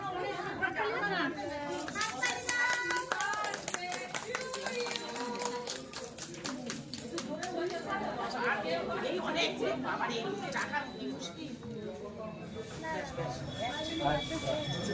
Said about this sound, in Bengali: হাততালি দাও বাবা।